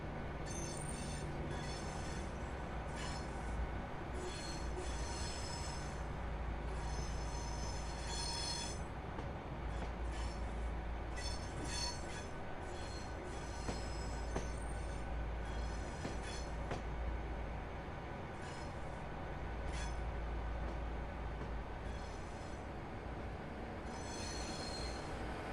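An Avanti West Coast class 805 train in a train simulator game runs steadily for the whole stretch, with constant low rumble, wheel squeal and rail noise and bursts of higher hiss, no talking.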